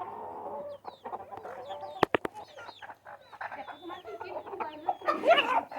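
Hens and roosters kept together cluck and squawk nearby in scattered bursts, with a few sharp knocks and a louder flurry near the end.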